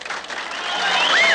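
An audience claps at a rock and roll performance, a brief swell of dense applause building in loudness, with a few voices in the mix.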